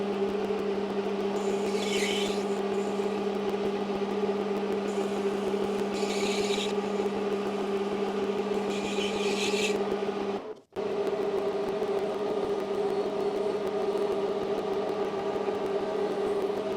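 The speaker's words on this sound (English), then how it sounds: "let's jump on the lathe and make a brass nut with an" A lathe machines a brass nut with an M6 thread, giving a steady motor drone with three brief scraping cuts. The motor stops abruptly and then starts running again.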